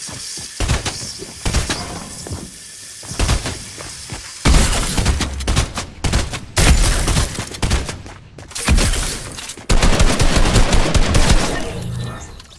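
Rapid gunfire bursts from a charge shotgun and an assault rifle in Fortnite, loud, close-sounding volleys in clustered bursts with brief gaps between them throughout.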